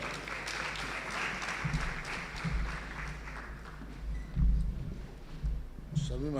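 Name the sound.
audience applause welcoming a speaker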